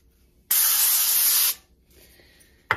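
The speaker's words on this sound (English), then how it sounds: "we're going to spray that with a little bit more of our olive oil" Olive oil sprays onto a baking pan in one steady, loud hiss lasting about a second. It is followed by quiet kitchen sounds and a sharp knock at the end.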